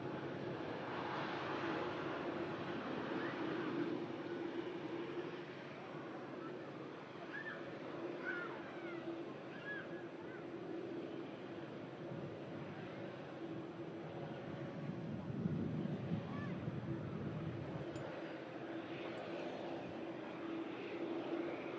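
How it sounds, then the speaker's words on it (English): TUI Dreamliner, light on its arrival from Malaga, touching down at Manchester Airport: a faint, distant, steady jet roar holding for the whole stretch, with quiet voices briefly in the background. "TUI Dreamliner absolutely buttering the landing as well."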